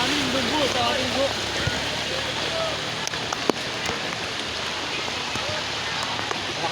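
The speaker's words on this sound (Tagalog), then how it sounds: "Lakas ng agos." A strong water current flows along a road in San Mateo, Rizal, giving a steady rushing wash with scattered splashes and clicks, while a voice speaks over it at the start.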